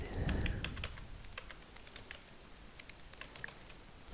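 Someone types on a computer keyboard, making quick, irregular, close-up clicks and taps of moderate loudness with a brief rustle at the start.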